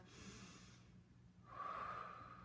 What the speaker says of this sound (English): Just breathe into it. So deep belly breath.